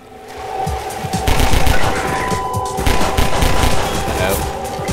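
Rapid SMG fire in Half-Life 2, fast bursts of automatic shots layered with combat noise and a steady tonal hum, loud and continuous after a brief quieter start.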